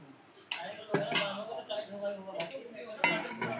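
A frying pan from a hiking cookware set being handled, with light metallic clinks and clatters close by while someone talks throughout.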